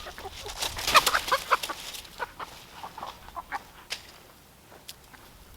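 Several hens cluck and squawk in short bursts near a chicken coop and run, a busy flurry early on that thins to scattered calls, fairly close.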